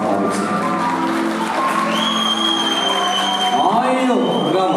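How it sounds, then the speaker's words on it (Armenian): Guests at an Armenian family celebration applaud steadily, a dense wash of clapping mixed with crowd voices, cheers and a few whoops over music throughout. "եկեք մեր առանձնատուն ծափարություններով ողջունենք Հեսայի ընկերներին"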